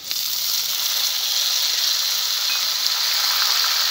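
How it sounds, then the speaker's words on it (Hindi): Finely chopped tomatoes hit hot oil with golden fried onions, giving a loud, steady, bright sizzle that starts abruptly and holds evenly throughout, with no talking. "अब इसमें डालेंगे टमाटर बारीक कटे हुए"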